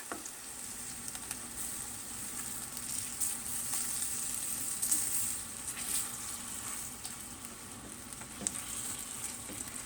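Steady sizzling of shrimp scampi and polenta cakes frying in a pan, a constant hiss with faint crackles and a few scraping stirs, no voices.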